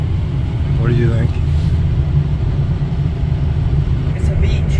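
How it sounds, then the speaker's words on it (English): Highway traffic rolls past near a North Dakota lake, a steady low rumble of passing cars and engines with a brief voice over it. "Traffic on this highway."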